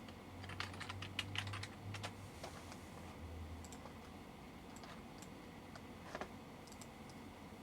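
Email address being typed on a computer keyboard, a quiet run of quick key clicks in bursts with pauses, fairly faint and close, no talk.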